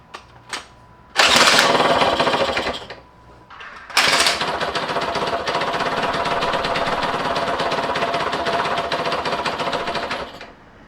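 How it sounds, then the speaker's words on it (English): A 1991 Yamaha YSR 50 two-stroke minibike runs roughly, giving a few sharp pops and a brief burst before it catches into a loud, rattling, uneven buzz that lasts several seconds and then cuts out. "I'm able to get it kind of started now. It's not running well, but at least it's firing."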